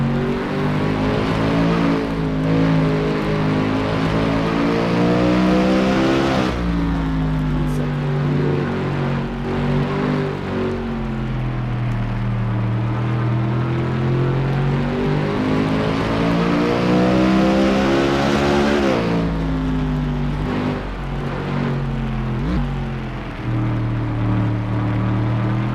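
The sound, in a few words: onboard race car engine, number 45, sim racing video game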